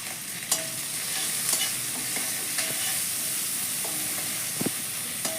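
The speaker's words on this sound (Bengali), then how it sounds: "রসুনটা একটু ভেজে নেব।" Garlic paste fries in a pan for a jackfruit and prawn curry, a steady, close hiss of sizzling oil with a few brief scrapes and clinks of a utensil stirring.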